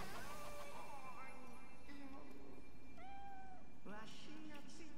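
A cat in the video game Nioh meows several times in short rising and falling calls, mixed with spoken dialogue and game sounds, fairly quiet overall.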